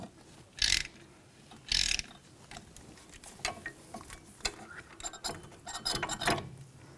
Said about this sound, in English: Using a 7mm hex socket, we're going to take these caliper slide pins out